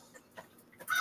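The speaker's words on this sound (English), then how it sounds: "That bird squawking is mine." A pet bird squawks outdoors in a few short, sharp calls scattered through a quiet moment, ending in a louder burst close by.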